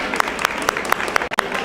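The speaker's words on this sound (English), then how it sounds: "A round of applause for Jane" Applause for a city council member at a community iftar gathering in Minnesota, a steady wash of clapping with a repeating sharper accent every quarter second, like amplified rhythmic claps, briefly cutting out near the end.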